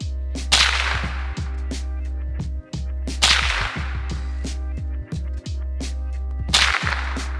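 Three sharp, loud .22 rimfire shots from a Ruger SR-22 rifle in AR configuration, spaced about three seconds apart, each a crisp crack with a short ringing tail, with smaller clicks and knocks between them and no talking.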